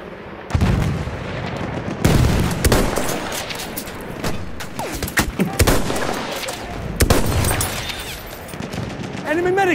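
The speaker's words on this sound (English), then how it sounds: "There's a machine gun!" Battlefield 1 combat on the Suez map: loud machine-gun bursts and rifle shots crack repeatedly over distant artillery booms, with battle chatter and shouted voices mixed in.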